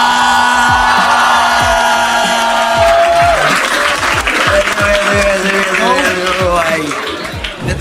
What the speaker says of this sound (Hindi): Start clapping for my panelists for the day.